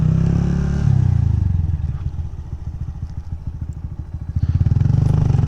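A Honda Grom motorcycle ridden along, its small single-cylinder engine giving a loud, close, rapid putter that eases off, then climbs again as the rider accelerates, with no talk.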